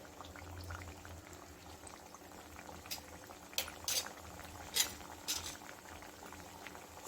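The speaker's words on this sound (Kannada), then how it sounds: "ಈ ಟೈಮಲ್ಲಿ ನಾವು ಮಾಡಿ ಇಟ್ಕೊಂಡಿರೋ ಬಿಸ್ಕೆಟ್ನ ಒಂದೊಂದೇ ಎಣ್ಣೆ ಒಳಗಡೆ ಸೇರಿಸ್ಕೊಳ್ಳೋಣ." Wheat flour biscuits fry in hot oil, a faint steady bubbling sizzle with a few sharper crackles and pops, quiet and close with no speech.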